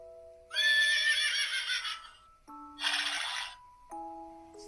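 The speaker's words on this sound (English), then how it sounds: "Let's hear what horses sound like." A horse whinnies loudly in three separate bursts, each a shrill, quavering neigh, clear and close with brief quiet gaps between them and no other sounds.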